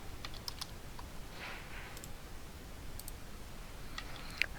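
A few scattered clicks of typing on a computer keyboard while a command is entered, faint and close, separated by short pauses with no talk.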